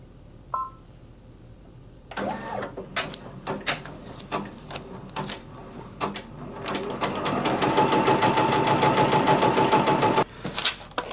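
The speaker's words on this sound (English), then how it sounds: "So now what the machine is going to start stitching is what we call the placement stitch." An embroidery machine sews the placement stitch on a tote bag appliqué, starting after a short beep with irregular mechanical bursts, then settling into steady, fast rhythmic stitching that pauses briefly before resuming.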